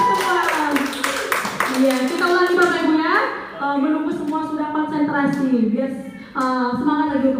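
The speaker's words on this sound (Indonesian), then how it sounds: "tepuk tangan dulu Bapak Ibu." Several rounds of rhythmic group hand clapping in a classroom or school session, fairly close and loud, with someone talking and singing along between and over the claps.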